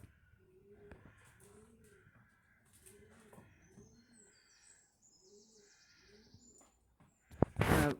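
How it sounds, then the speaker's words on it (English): Pigeons coo outdoors in a steady repeating pattern of low, soft calls at moderate distance, with faint higher birdsong and a brief loud rustling burst at the end. "There's a seagull and a pigeon outside."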